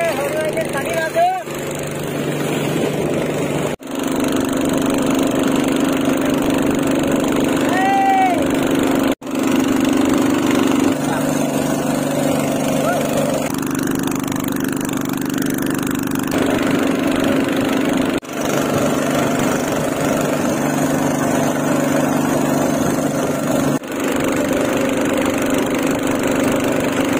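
A boat's engine drones steadily and loudly throughout a ride across the Sonbeel wetland in Assam, close by and continuous, with people talking over it now and then.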